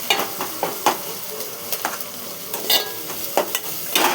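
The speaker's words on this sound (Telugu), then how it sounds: "అల్లం పేస్టు, పసుపు వేసుకోవాలి." Ginger paste and turmeric fry in a pan, a steady sizzle broken by repeated scraping strokes of a spoon stirring, close and fairly loud, with no talking.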